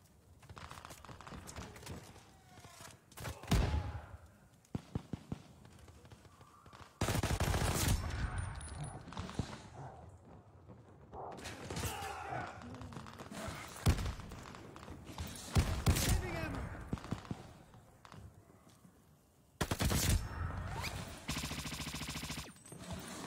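Gunfire in a video game's OG Infector mode, with repeated rapid bursts and single shots at varying loudness, close and punchy, mixed with thuds and clatter.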